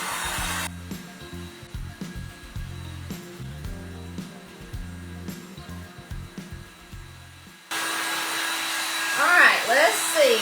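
A handheld hair dryer blows on an IOD Joie des Roses wall art transfer. Its steady, loud whoosh starts late in the clip and runs to the end, with someone talking over it.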